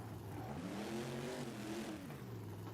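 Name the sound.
monster truck engine revving in BeamNG video game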